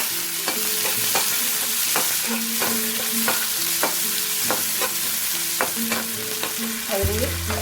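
Onion and curry leaves frying in hot oil with mustard seeds while being stirred, a steady sizzle broken by regular scraping strokes of a spoon against the pan, close and loud with no talking.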